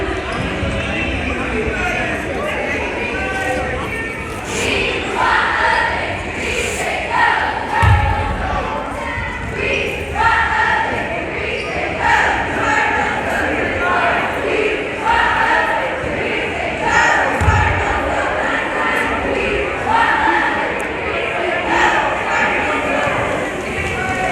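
The Santa Paula Cardinal cheer team performs during intermission at a high school girls basketball game against Fillmore, with rhythmic shouted chants, stomps and thuds echoing in the gym over crowd noise, in repeating bursts.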